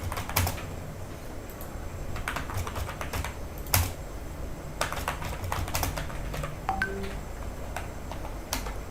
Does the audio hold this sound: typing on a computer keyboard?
yes